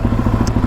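A Suzuki DRZ dual-sport motorcycle engine idles and pulls away with a steady, close, thumping single-cylinder pulse, recently repaired for charging problems, without any speech over it.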